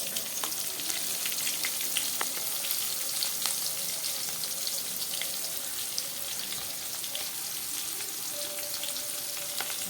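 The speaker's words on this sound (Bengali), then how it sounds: "পেঁয়াজগুলো আমি দিয়ে দিলাম। পেঁয়াজগুলো একটু ভাজা হয়ে গেলে আমি রসুনগুলো দিয়ে দেবো।" Onions fry in a pan with a quiet, continuous crackling sizzle and scattered small pops over ten seconds, heard alone without talk.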